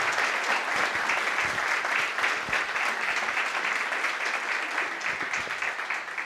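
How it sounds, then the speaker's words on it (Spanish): Sustained applause from a large audience at a human rights symposium, a dense and even wash of clapping that holds steady throughout with no voices. "pido nuevamente un aplauso"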